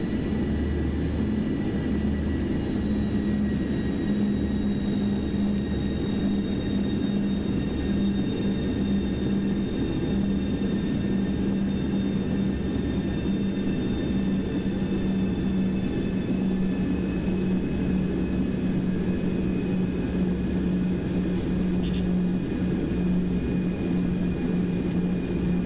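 Steady engine drone of a Boeing 727-100 jet taxiing to the runway in the X-Plane 12 flight simulator: a constant low hum with faint high whine, unbroken and alone for the whole stretch.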